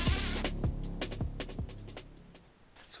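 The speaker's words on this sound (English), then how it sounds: "So there's a lot of mosquitoes." Mosquitoes buzz around a transparent flat-lay hammock outdoors, a faint thin hum under a string of close, sharp clicks and rustles from movement in the hammock.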